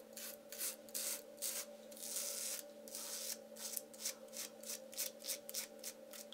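Gillette Atra cartridge razor shaving without a lubricating strip, a close rhythmic rasp of short strokes repeating steadily through the whole stretch, each pass crisp and scratchy against the stubble.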